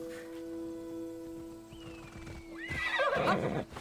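A horse in the video game Assassin's Creed Odyssey gives a loud, shrill whinny that rises and wavers, preceded by quieter hoof clops under a steady background hum, close to the listener.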